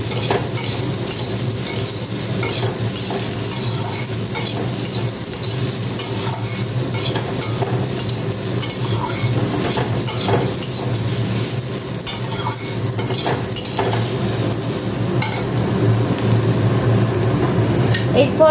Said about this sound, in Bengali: আলুগুলো নিয়ে আমি একটু নাড়াচাড়া করে নেবো আবার